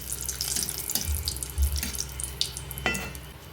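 Bay leaves, cracked black cardamom and other whole garam masala spices for paneer pulao hit hot oil in a pan, giving a bright, hissing sizzle with a few crackles and pops. The sound is close and loud, and nobody speaks.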